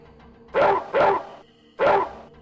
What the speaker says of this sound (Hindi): कुत्ता भी आगे बढ़कर काटने को तैयार हो जाता।